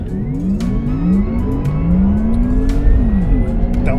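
A Porsche Taycan 4S or Tesla Model S Raven electric car launching hard from standstill, a rising electric whine sweeping upward in pitch with a brief dip at a gear shift, heard from inside the cabin with steady road rumble beneath.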